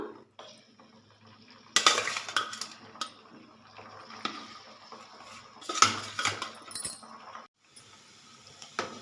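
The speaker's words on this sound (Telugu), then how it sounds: "ఇప్పుడు వేగిన ముక్కలను మళ్ళీ ఆయిల్లో వేసేసుకుందాం." Fried chicken pieces for pickle are dropped back into oil amid clattering utensil scrapes and clinks, irregular bursts with quieter gaps, close and moderately loud.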